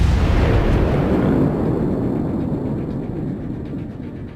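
Bismarck battleship shells from a tight salvo strike in the naval game World of Warships, a loud booming explosive impact that rumbles and slowly fades, with no talking.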